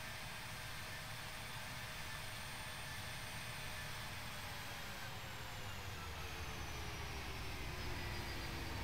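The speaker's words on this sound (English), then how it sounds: "It does sound like an actual plane." Engines of a Captain Sim Boeing 757-200 airliner in Flight Simulator X on a Dallas–Fort Worth to Houston Hobby flight, a steady faint broadband roar and whine with a slowly shifting tone.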